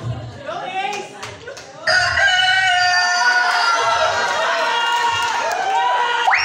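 Rooster crowing loudly nearby at a first birthday celebration, one long drawn-out call over faint background chatter and crowd noise.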